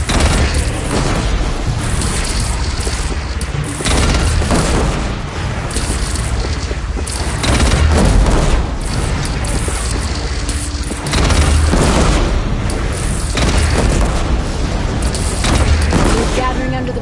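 Heavy booming blasts and crashing impacts from a cannon battle in Horizon Zero Dawn, loud and continuous over seventeen seconds with repeated explosive surges and voices shouting amid the din.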